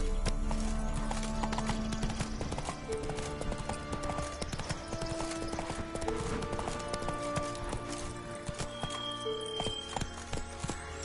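Galloping horse hooves pound in a rapid, steady rhythm in the video game God of War, loud and close, with a whinny and swelling orchestral music layered over the run.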